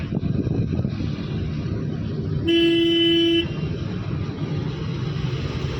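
A car horn gives a single sustained honk of about a second on a road during a driving lesson, sounding over the low rumble of the moving car's interior.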